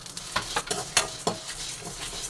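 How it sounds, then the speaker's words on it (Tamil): Chilies and curry leaves fry in oil in a pan for a tamarind rice paste, giving a soft sizzle broken by several spoon stirring scrapes at an uneven rhythm, close and fairly quiet. "மிளகா கருவேப்பிலாம் எடுத்து வச்சுருக்கோம்ல அதையும் இதில் போட்டு வறுத்துக்குவோம்"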